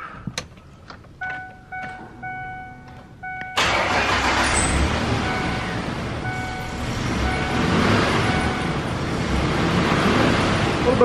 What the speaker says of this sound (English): we're gonna fire her up here